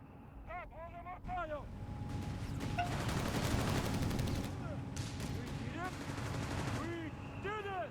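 Rifle gunfire from a Company of Heroes 3 battle, with rapid crackling shots and bursts mixed with explosions and rumbling battlefield noise, under a caster's continuous commentary.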